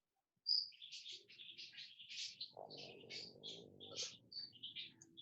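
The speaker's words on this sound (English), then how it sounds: "Oh, I have a bird in my house." Small pet parakeets chirp indoors in a house, a steady run of quick high tweets at moderate distance, with faint low household murmur underneath.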